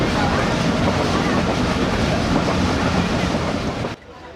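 The 12DN Hazara Express passenger train runs steadily, a loud continuous rumble and rattle heard from onboard, cutting off abruptly near the end.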